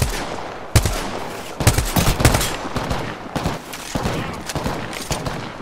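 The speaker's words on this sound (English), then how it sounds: "Just spamming bullets, I don't even know what I'm hitting." Rapid automatic gunfire in the shooter game Apex Legends, with bursts of shots fired in quick clusters over several seconds and a sharp onset, loud and close with no talking.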